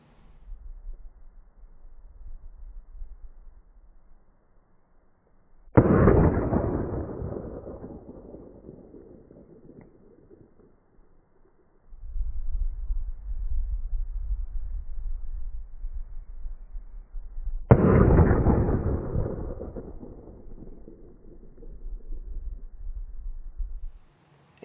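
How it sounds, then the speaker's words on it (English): Two pistol shots, one from a .380 and one from a 9mm, fired during ballistic testing: each is a single sharp blast with a long rumbling decay, spaced about twelve seconds apart, with low background rumble in between. "both firearms went bang when I pulled the trigger"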